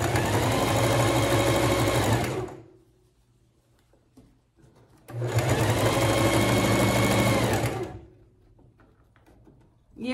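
A sewing machine stitches a cushion cover in two loud, steady bursts of a couple of seconds each, separated by a quiet gap, with another burst starting at the very end.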